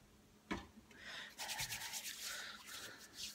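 Hands rubbing in a peppermint-scented waterless hand purifier, with a soft slap and then a steady, close, quiet swishing friction.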